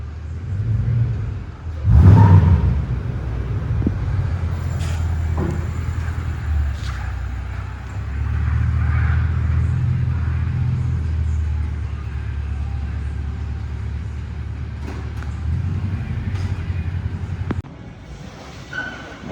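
A Toyota Tundra truck rolls into a large truck workshop, its engine rumbling steadily with a brief louder rev near the start, then a low even drone that drops off toward the end.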